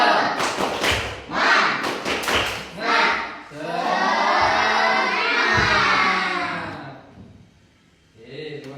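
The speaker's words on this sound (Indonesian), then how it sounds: "Yuk kita tepuk semangat bersama." A classroom of schoolchildren performs a rhythmic clapping chant, sharp bursts of group claps and shouted syllables followed by a long sustained cheer from the whole class, then a brief quieter pause before more voices.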